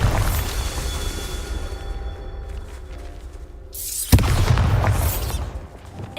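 A Bombarda spell blasts in Hogwarts Legacy with a sudden loud boom partway through, a sharp burst followed by a rumbling tail, with earlier spell effects and shimmering game sounds before it.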